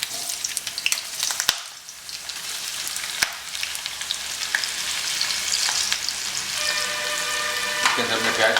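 Onions hit hot oil in a pot for chicken biryani, a continuous close sizzle and crackle with a few sharp clinks and stirring sounds, the frying growing steadier and fuller toward the end.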